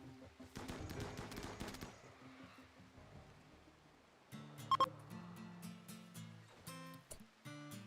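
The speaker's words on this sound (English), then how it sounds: "Start shooting that Devourer." Gunfire aimed at a Devourer in the RimWorld video game, rapid bursts of game shots with beeping interface sounds, a dense burst early, then scattered shots and bleeps after a short lull.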